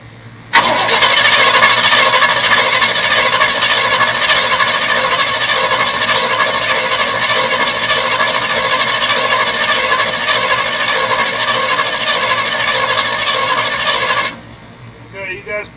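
A long-neglected 1975 GMC C10 Gentleman Jim pickup engine cranks steadily with the starter for about fourteen seconds, loud and close, a continuous churning drone that never catches before stopping abruptly.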